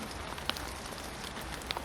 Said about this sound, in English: The rain's starting to get a bit heavier now